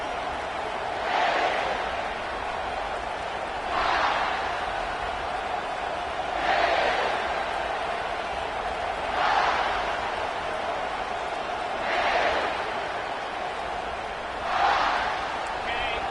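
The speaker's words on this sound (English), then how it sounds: "This crowd bringing an ear-splitting welcome to their visitors." Stadium crowd at an American football game keeps up a steady roar that swells into louder cheering bursts every few seconds, with a commentator's voice over it.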